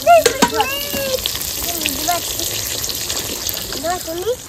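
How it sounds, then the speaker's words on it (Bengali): Brinjal slices fry in hot oil at a night-time children's picnic, giving a steady sizzling crackle beneath frequent nearby voices. "এইবার একটু বেগুন ভাজা।"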